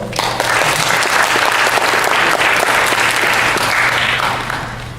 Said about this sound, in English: Could we get a round of applause for Dr. Doyle?